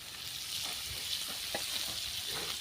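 Chicken pieces fry in oil in a village kitchen, giving a steady, even sizzle with soft crackles and a few stirring scrapes, heard fairly faint and with no talk over it.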